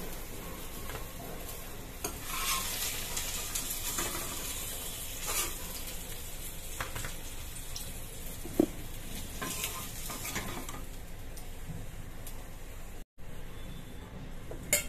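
Pointed gourd sizzles steadily as it fries in hot oil, with a spoon stirring and tapping against the pan now and then.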